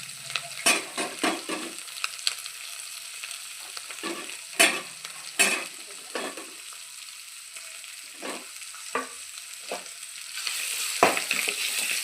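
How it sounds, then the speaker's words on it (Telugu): Spices with a pinch of turmeric frying in a pan for ridge gourd curry, a soft sizzle punctuated by sharp, close scraping strokes of a spoon, swelling louder near the end. "ఇలా ఫ్రై చేస్తున్నాను."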